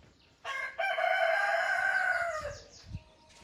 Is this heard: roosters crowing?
yes